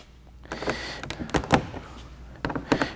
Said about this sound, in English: we've also got another access door here